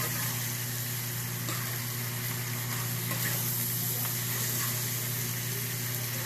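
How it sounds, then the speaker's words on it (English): Noodles fry in a pan with garlic butter sauce and seasoning salt, giving a steady, close sizzle with faint stirring scrapes under a constant low hum. No one speaks. "Right now, basically, I'm just coating the noodles."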